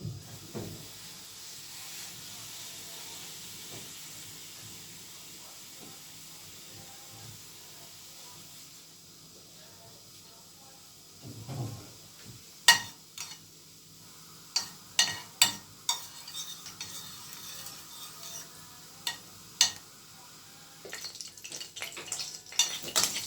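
Liver sizzles softly in a pan after being turned over, a low steady hiss that later gives way to a run of sharp clanks and scrapes of utensils against the pan, close and fairly loud.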